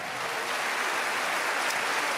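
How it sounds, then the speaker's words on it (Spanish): A church audience at a Dante Gebel sermon breaks into dense, continuous applause, a steady wash of many hands clapping at once with no speech on top. "alguien tiene que aplaudir más que eso"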